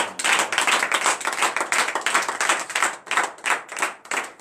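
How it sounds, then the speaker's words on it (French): A church congregation at a morning prayer service in Benin claps energetically, a dense, steady run of close hand claps with pulsing swells throughout, no talk over it. "Manifestez votre joie en donnant une vive acclamation à l'Éternel."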